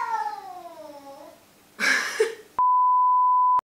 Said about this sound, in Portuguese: Estão a ver os zoomies da minha gata?